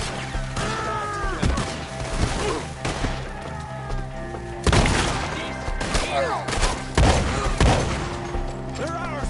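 Gunfire in the video game Red Dead Redemption 2, a fusillade of close, loud shots and impacts in bursts, with shouting voices mixed in among the firing.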